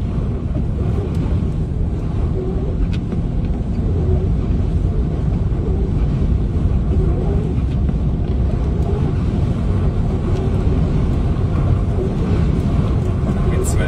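Strong wind in Finland roars and buffets continuously, a dense broadband rush close to the microphone throughout.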